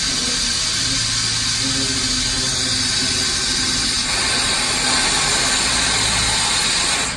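Heavy cover of a Mepaco industrial vacuum mixer-blender lowering slowly on its air valve, giving a steady, loud mechanical hum with hiss that runs unbroken throughout.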